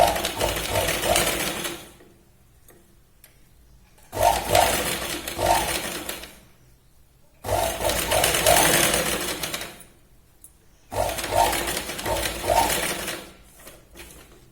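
A sewing machine stitches lace onto a katori blouse in four loud, steady bursts of whirring, each about two to three seconds long, separated by short quiet pauses.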